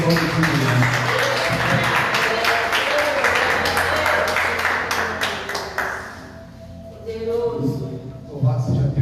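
A church congregation at a doctrine service claps rhythmically in unison, a loud, sustained, even beat under singing or voices, which fades briefly before picking up again.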